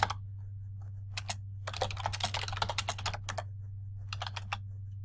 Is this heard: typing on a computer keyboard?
yes